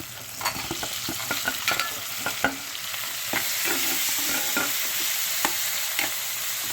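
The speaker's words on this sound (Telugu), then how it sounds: "ఈ టైంలోనే నేను టమాటో ముక్కలు వేసేసుకుంటాను." Tomato pieces for a tamarind-leaf and broad bean curry fry in a pan, giving a constant close hiss with scattered spoon taps and stirring scrapes, steady and loud with no voices.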